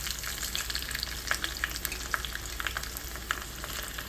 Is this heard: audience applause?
no